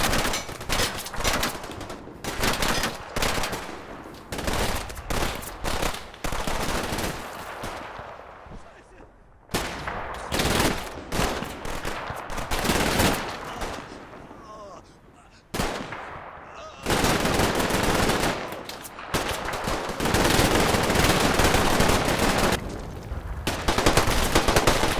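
Rapid bursts of submachine gunfire and other small-arms shots ring out on a World War II battlefield in the video game Combat Mission Red Thunder, loud and dense, with brief pauses between sustained volleys.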